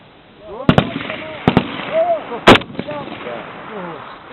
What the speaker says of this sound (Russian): Шесть патронов. Ну стреляй.